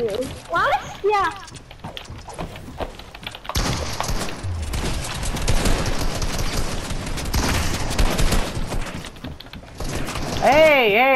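Rapid bursts of gunfire in the video game Fortnite crackle in dense volleys at close range, with players talking excitedly over the shooting.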